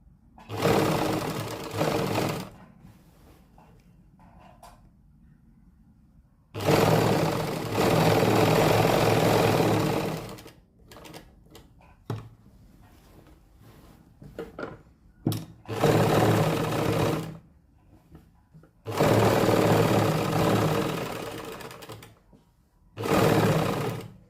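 Sewing machine stitching a fitting seam in a tailoring session, running in four loud bursts of steady whirring separated by quieter pauses with scattered clicks and handling sounds.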